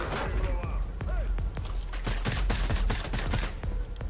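Rapid Fortnite gunfire during a squads match aboard the yacht: dense bursts of sharp, overlapping shots crackle almost continuously, some close and loud, others further off, with game sounds layered underneath.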